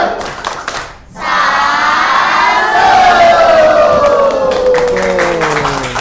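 A classroom of students performs the Indonesian 'tepuk salut' clapping chant: loud, close voices shouting together in unison over rhythmic hand claps, with a brief pause near the start before the group chant swells and holds.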